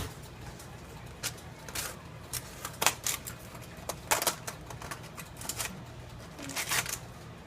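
Smoked barbecue meat, pulled off the smoker after eleven and a half hours, being cut open: a series of short crisp slicing and crackling bursts, close and fairly quiet, with no talk.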